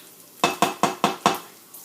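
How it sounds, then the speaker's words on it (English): About three garlic cloves are stirred in a pan, making five evenly spaced, close scraping strokes in a steady rhythm with a faint sizzle underneath. "stir that garlic around. Let it get a little brown."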